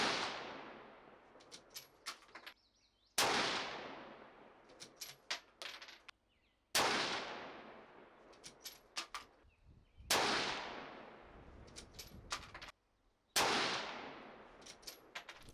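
Rifle shots firing Sierra MatchKing X bullets: five loud, sharp reports at fairly even intervals, each with a long ringing decay and a few small metallic clinks in between.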